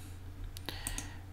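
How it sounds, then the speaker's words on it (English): Computer mouse clicks from a Lightroom catalog organising session, a few sharp, close clicks over a low steady hum with no talking. "I'm clicking and clicking."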